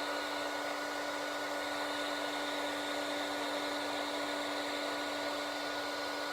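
A heat gun blasts a steady, loud, unbroken whoosh with a constant tonal hum while melting silver embossing powder, continuing alone throughout.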